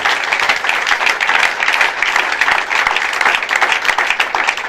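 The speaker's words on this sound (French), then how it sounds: "Bon, acclamons Jésus. Put your hands up for Jesus." A church congregation claps and cheers in praise, dense sustained applause filling a large room evenly from start to finish.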